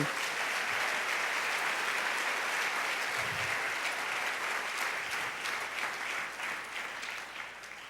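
A church congregation applauds in a Spanish-language service, giving steady, full clapping that slowly fades over several seconds.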